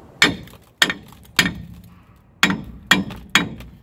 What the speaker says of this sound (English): we're also going to get a hammer. I'm going to give it a couple taps.